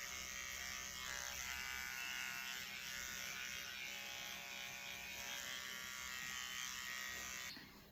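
Small electric mini trimmer set on low, buzzing steadily close by as it skims a cat's fur, an even continuous hum that cuts off abruptly at the end, with no voices.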